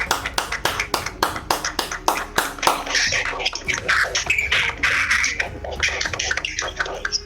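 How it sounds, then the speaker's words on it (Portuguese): A small audience gives a round of applause celebrating Anne Frank. The clapping is close and loud, starting as slow, evenly spaced claps and then thickening into faster, overlapping applause before thinning out. "vamos celebrar, assim, simbolicamente, a Anne Frank com uma salva de palmas para ela"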